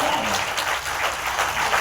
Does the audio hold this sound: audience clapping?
yes